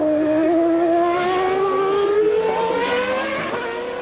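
A 1994 Tyrrell Formula One car in qualifying, its engine screaming at high revs with a steady rising pitch as it passes loud and close, then easing slightly toward the end.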